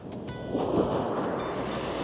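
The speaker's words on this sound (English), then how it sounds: "a famous town known for surfing and deadly waves" Ocean surf and wind sound at the Nazaré surfing beach, known for huge waves. A continuous wash of waves swells slightly partway through, under gusty wind buffeting the microphone, with no speech.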